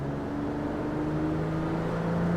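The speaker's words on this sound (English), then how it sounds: "You can hear the induction really, really well." A 2007 Saturn Vue with a J-series engine accelerates from inside the cabin, its steady induction drone and engine hum rising slightly in pitch and loudness over a couple of seconds.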